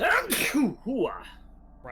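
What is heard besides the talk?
sneeze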